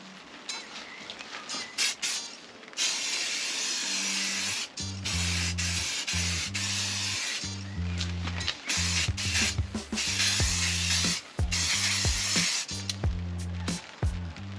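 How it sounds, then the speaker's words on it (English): Aerosol clear coat sprays onto a masked vehicle headlight in several hissing bursts of a few seconds each, close and steady, with clicking and rattling handling noises between passes. "let's give it a little coat of clear coat"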